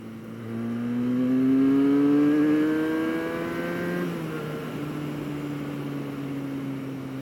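A Benelli 302S motorcycle engine revs up in a rising whine, peaks, then settles to a steady, fairly loud hum with no speech.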